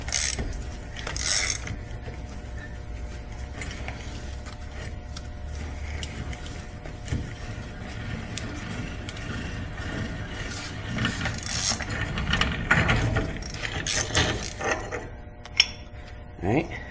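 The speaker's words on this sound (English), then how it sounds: "Take your hub nut remover tool in there, just a big old socket." A big socket used as a hub nut remover turns out a Ford Bronco auto hub nut, giving faint, close metallic clicking and scraping in irregular bursts over a low background hum.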